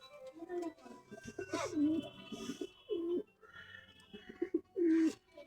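A Motiyal pigeon imported from Pakistan gives several deep, rolling coos in a loose repeating rhythm, close and fairly clear, with faint background murmurs.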